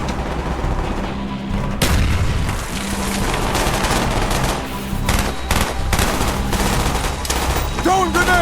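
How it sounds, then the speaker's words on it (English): Rapid gunfire bursts and booming blasts from a grenade and weapons in Call of Duty: Black Ops fill the whole stretch, loud and dense, with sharp impacts cutting through continuous battle noise. "Бросаю гранату!"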